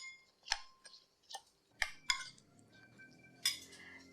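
Spoon stirring a cucumber achar salad in a bowl, giving a quiet, sparse run of light clinks and taps against the dish, spaced irregularly with near silence between.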